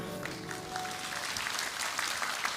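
A crowd applauds steadily, a dense wash of clapping hands at moderate volume with no pauses.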